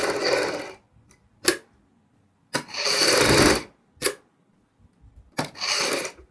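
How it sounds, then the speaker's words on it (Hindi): A sewing machine stitching along the buckram edge of a kurti neck piece, running in short whirring bursts of about one second each, separated by silent pauses. "मैंने दोनों साइड बुकरम की किनारी के ऊपर सिलाई लगाई है"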